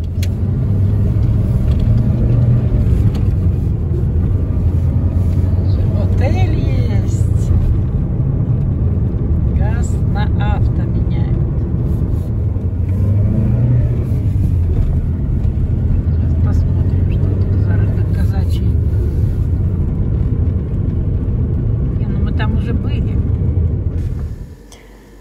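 A car drives along the outskirts of a small town, a steady low engine and road rumble heard from inside the cabin, continuous for the whole stretch before fading out, with talking over it.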